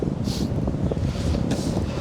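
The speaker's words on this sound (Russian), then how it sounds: "Это сейчас я против ветра еду." Wind buffeting the microphone while riding an electric skateboard into a headwind at about 13–15 km/h, a loud, constant low roar with brief gusty surges, no talking.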